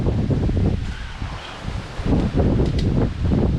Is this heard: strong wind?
yes